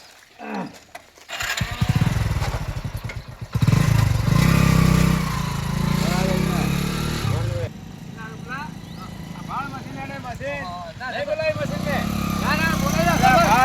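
A backhoe loader's engine rumbles and revs nearby while several people talk and shout over it.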